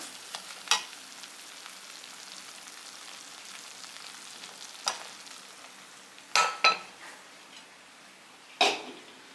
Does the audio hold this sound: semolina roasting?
yes